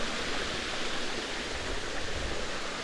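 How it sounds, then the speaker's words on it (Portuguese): A small waterfall along a forest trail roars in a steady, dense rush of white water, loud and close, with no other sounds breaking through. "Mais uma cachoeira."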